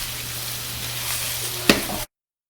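Potatoes fry in a pan, giving a continuous soft sizzle with a low steady hum beneath it and one brief sharp click near the end before the sound cuts off.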